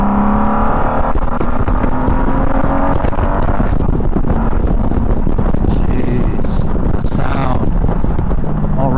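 A 1999 Honda Valkyrie F6C motorcycle engine pulls hard under acceleration, a loud smooth rising roar mixed with heavy wind buffeting, close and continuous.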